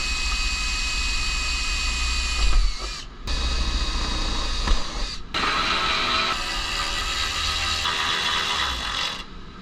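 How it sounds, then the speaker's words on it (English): Continuous high-pitched mechanical whine of a power drill boring 1/8-inch holes through a car body side panel, with brief pauses between holes, close and steady. "I'm going to lock it down by drilling 1/8 holes and using a screw to hold it together"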